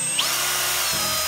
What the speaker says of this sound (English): So I need to drill it out again.